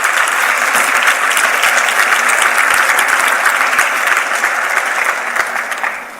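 A church congregation breaks into loud, dense applause during a sermon, a thick wash of many hands clapping together that holds steady, then tapers off toward the end.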